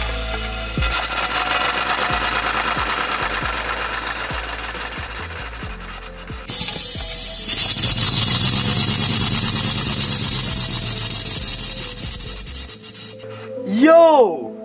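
A small 3D-printed, air-powered radial engine chatters rapidly, slows with spaced thumps, then spins up again with a hiss before cutting off; a voice exclaims at the end.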